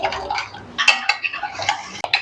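Spoon mixing tandoori spices in a bowl, giving quick irregular scraping and clinking strokes against the bowl, close and fairly loud.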